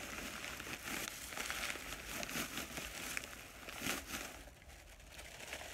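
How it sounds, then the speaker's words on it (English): A regular plastic bag crinkles and rustles while being packed with stuffing and pushed inside a Dooney & Bourke handbag, a continuous close, fairly quiet crackling with brief louder crunches and no talking. "I just use a regular plastic bag and I put stuffing on the inside."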